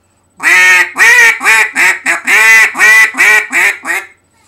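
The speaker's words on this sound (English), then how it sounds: "Once you can do the quack pretty good, then you can go ahead and put it in here like this" A duck call blown by hand produces a run of about nine loud, close, nasal quacks in steady rhythm, each sharp and raspy, with no talking over them.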